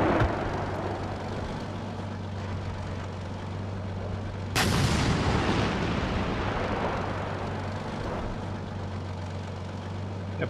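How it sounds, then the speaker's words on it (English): Tank gun fire in the Steel Beasts simulator game, a single sharp heavy boom midway with a long rumbling decay over a constant low engine drone, no talk. "they're firing behind the building"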